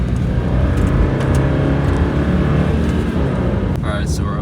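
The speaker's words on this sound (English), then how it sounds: "Alright, so we're up here driving" Car driving at night under northern lights, with steady loud road and engine rumble from inside the cabin and brief voices near the end.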